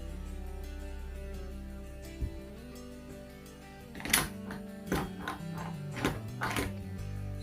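The bolt of a Hatson Escort bullpup shotgun is worked against a table, giving several close, sharp metallic clacks and thunks in uneven bursts over a low hum.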